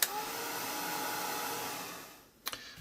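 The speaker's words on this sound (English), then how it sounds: "I've just put the heat gun back on that again, just to kind of dry that surface up a bit more." Heat gun blowing hot air over a freshly painted surface, a steady loud broadband whoosh running almost continuously before cutting out, followed by a couple of brief knocks near the end.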